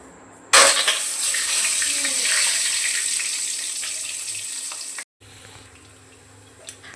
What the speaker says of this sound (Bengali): হাফ বয়েল করা ডিমগুলো আস্তে আস্তে ভেজে নেবো এর মধ্যে দিয়ে